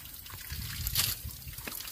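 Water runs from a village tap in Rwanda, a soft steady trickle and splatter close by with a brief brighter gush in the middle, fairly quiet and without voices.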